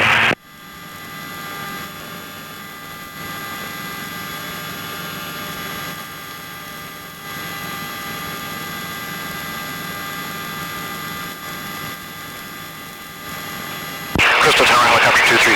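A helicopter in flight during a 1993 tour over the Twin Cities gives a loud, steady engine and rotor drone with a constant whine throughout, ending in an abrupt louder burst of noise.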